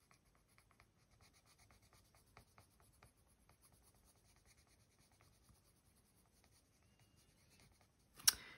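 Colored pencil shading around a drawn leaf on paper, a quiet steady scratchy rubbing of close strokes in short repeated bursts, ending with a brief louder knock.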